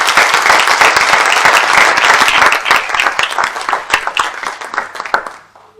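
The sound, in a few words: audience applause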